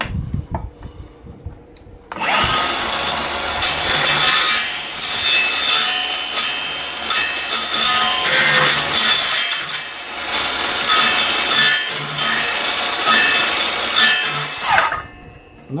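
A hand saw rasps through wood being cut for a raised garden bed, loud and close, with rapid back-and-forth strokes running for about thirteen seconds before stopping.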